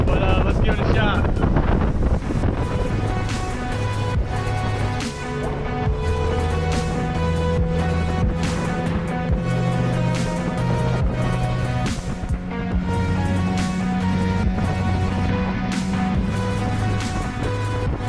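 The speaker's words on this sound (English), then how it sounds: "it is like almost white caps out here, water spraying everywhere over on the side of the boat" A small motorboat engine drones steadily beneath heavy wind buffeting and splashing water in choppy, nearly whitecapped water, loud and close throughout, with a voice speaking over it.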